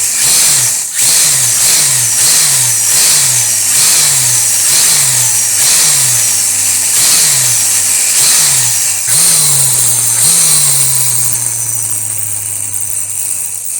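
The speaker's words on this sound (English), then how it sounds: "let's fire her up, get that motor running for the first time and see what she sounds like" An electric motor in a Sideways Limited Edition Lamborghini Huracan Carbon Edition slot car whines in a rapid series of short, repeated rev bursts, about a dozen close and loud pulses, then settles into a longer steady run.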